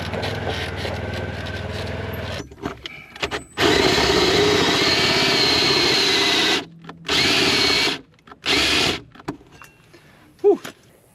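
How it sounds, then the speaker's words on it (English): A power drill bores outdoors on a farm, whining loud and close in long sustained bursts. Several shorter stop-start runs follow, broken by quiet gaps, over faint background noise. "We gotta cool this thing off a little bit before we keep drilling with it."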